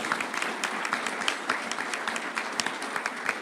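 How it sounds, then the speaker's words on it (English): Steady applause from an indoor audience at a Toyota leadership summit in a visitor center: dense, even clapping that holds at a constant level for the whole stretch, with no voices over it. "So please a round of applause to thank them."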